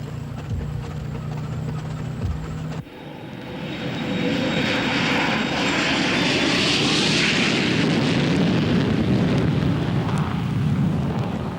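Airplane engines roar up to full power for takeoff, a steady loud rumbling drone that swells after a brief lower hum and then holds strong and close throughout, with no talk over it.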